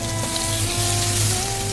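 Mango and potato mixture poured into hot spiced oil in a frying pan sizzles steadily up close, a dense continuous crackle with no talk over it.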